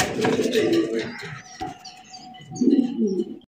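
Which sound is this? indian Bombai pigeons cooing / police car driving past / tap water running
indian Bombai pigeons cooing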